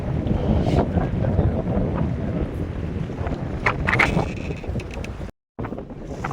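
Strong wind at sea buffets a fishing boat, a loud continuous rush with gusty bursts and rumbling microphone buffeting, broken briefly by a moment of silence near the end.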